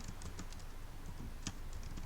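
Steady keystrokes on a computer keyboard while Python code is typed, a quick, irregular run of light clicks with one sharper key strike, close and alone.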